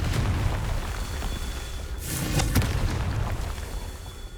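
Confringo spell explosions in the video game Hogwarts Legacy, a steady roar of booming blasts with a sharp burst near the middle, loud and dense over game ambience.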